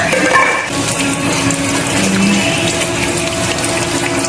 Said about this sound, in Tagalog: hugasan muna natin ang ating malunggay guys